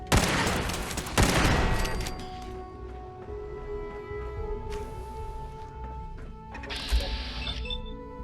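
Gunfire in the Fallout 4 video game: loud bursts of rapid shots at the start, then a sharp crack, followed by a quieter stretch with ringing tones and another burst near the end.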